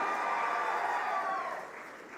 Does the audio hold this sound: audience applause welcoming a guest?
yes